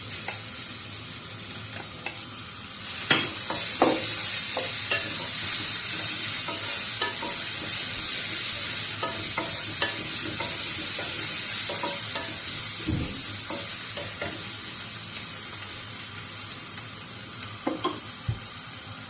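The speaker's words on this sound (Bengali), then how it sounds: "তেল গরম হয়ে গেছে, আমি রসুন দিলাইলাম।" Garlic frying in hot oil for a pumpkin leaf dish, a steady, loud sizzle running throughout with occasional stirring clinks and scrapes.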